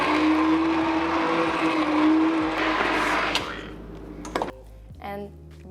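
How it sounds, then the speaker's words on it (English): Mixer running as it blends soft cooked butternut squash into soup in a pot, a loud steady whir lasting about three seconds before cutting off, followed by a few brief clatters. "And you're just gonna use a mixer."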